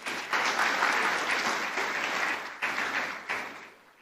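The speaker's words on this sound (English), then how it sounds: "Can we please give him another round of applause?" Applause from an audience at a climate change summit in Lagos, a dense, steady clatter of many hands lasting about four seconds, with two brief dips before it fades out at the end.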